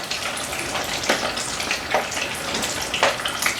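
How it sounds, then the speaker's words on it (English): Food frying in hot oil, a continuous crackling sizzle with occasional louder pops, close and steady with no voices. "So they're frying."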